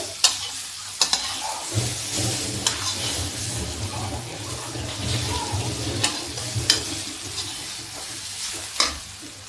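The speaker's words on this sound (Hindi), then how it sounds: "अब इसको हम फ्राई करते हैं। गैस को स्लो कर दिए हैं।" Bitter gourd (karela) pieces frying on a low gas flame in vinegar-style karela sabzi, a continuous soft sizzle with periodic spatula stirs and scrapes against the pan, no voices.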